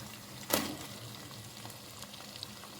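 Onions hit hot oil for khade masala keema with a sharp burst of sizzling, then settle into a soft, faint, steady frying crackle.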